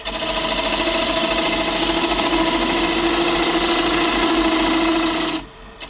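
A wood lathe spins steadily at close range while the foot of an olive ash bowl is reshaped, a continuous even whir with a faint ringing tone that cuts off near the end, with no voices.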